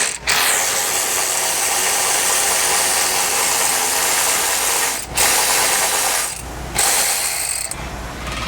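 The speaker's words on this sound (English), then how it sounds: "we're going to go ahead and remove the 4 fastening bolts. You'll use a 13mm socket." Ratchet wrench with a 13mm socket backing fastening bolts out of the dash of a CFMOTO UForce U10 PRO UTV, a steady rapid clicking that runs continuously and close with only brief pauses between bolts.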